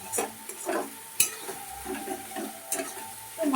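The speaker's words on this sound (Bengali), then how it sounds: "মশলাটা কষা হচ্ছে।" Spice paste for ghugni sizzles in a hot pan while a spoon scrapes and stirs it in short repeated strokes, with a few sharp clinks against the metal, close and at moderate volume.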